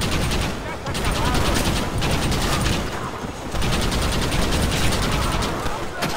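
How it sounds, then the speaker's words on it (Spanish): Rapid, sustained bursts of Gatling gunfire in Red Dead Redemption rattle continuously, loud and close, with short pauses between volleys and mechanical whirring underneath. "con un disparo de estos de una Gatling, que hacen carnitas"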